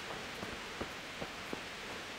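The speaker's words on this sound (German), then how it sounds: "Oh, das regnet immer noch." Rain in the medieval video game Kingdom Come Deliverance falls as a steady, soft hiss, faint throughout with a few slightly louder drops.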